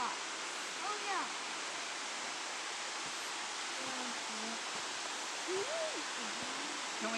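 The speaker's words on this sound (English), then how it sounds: "Look, a waterfall." Waterfall at Ash Cave in Hocking Hills State Park, a constant dense rush of falling water with faint voices and bird-like chirps drifting over it.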